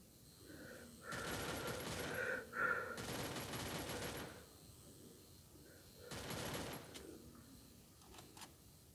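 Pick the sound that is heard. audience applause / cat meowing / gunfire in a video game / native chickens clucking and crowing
gunfire in a video game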